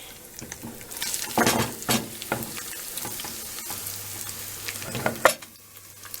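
Chopped onion fries in a new pan, giving a steady close sizzle with bursts of crackle and the scrape of stirring, loudest early then settling to a softer hiss.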